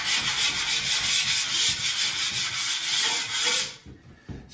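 Scraper dragging across a skim-coated bathroom wall in an off-grid cabin, knocking off high spots in quick repeated rasping strokes, close and steady, then stopping with a few light taps.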